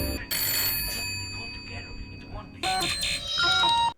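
A telephone bell rings in repeated bursts, loud and close, with quieter stretches between the rings.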